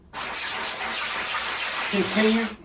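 Water gushes steadily as a screen printing screen is scrubbed and washed in a washout booth, a loud continuous spray close by that cuts off abruptly at the end.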